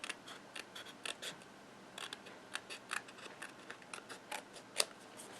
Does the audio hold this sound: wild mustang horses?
no